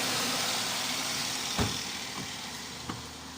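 A Toyota Altis that had a hard-starting problem idles steadily after starting, a constant close engine drone with a couple of faint clicks partway through.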